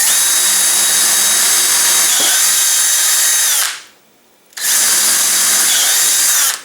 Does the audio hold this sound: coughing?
no